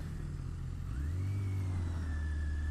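A motorcycle engine drones steadily while riding on an evening road. The note shifts down and then holds a deeper, even rumble with a faint higher whine above it, close and continuous. No one speaks.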